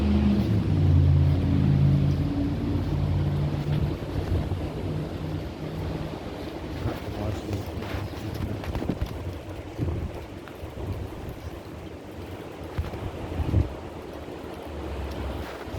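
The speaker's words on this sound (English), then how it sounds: "That's a gust." A strong wind gust blows ahead of a heavy storm system under a tornado watch in south-central Kentucky, a loud, rushing roar outdoors that surges at first, then keeps gusting and buffeting steadily with no voices.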